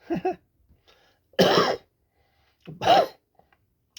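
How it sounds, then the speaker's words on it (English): A man coughs three times in short, harsh bursts spaced about a second apart, close to the microphone in a quiet room. "that's me coughing my ducts out"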